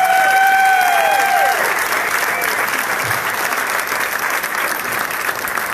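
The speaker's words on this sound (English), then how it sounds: "Everybody give them a round of applause," A crowd applauds at a live drag racing awards unveiling, loud sustained clapping that fades slightly, with a brief whistle-like tone near the start.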